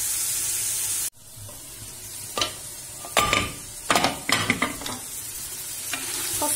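Fresh green beans sauté in a hot pan, a bright steady sizzle broken by a sudden drop, then returning with scattered stirring scrapes and hissing bursts, close up with no talking.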